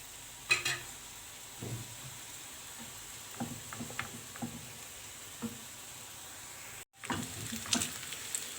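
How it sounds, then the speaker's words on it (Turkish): Beef for homemade İskender sautéing in olive oil in a pan, a steady close sizzle broken by scattered scraping and stirring clatters, with a short cut to silence near the end before the sizzle resumes. "Etimizi de kavurduk"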